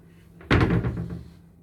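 A hotel room door at the Blackpool FC Hotel slams shut with one sharp, loud bang that rings briefly and then fades.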